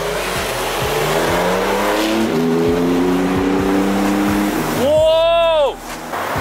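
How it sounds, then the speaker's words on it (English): A Porsche GT2 RS accelerates hard on an Orange County street, its engine droning and rumbling up close before a loud, sharply rising rev burst near the end, with other traffic noise around it. "GT2 RS, hit the gas for us"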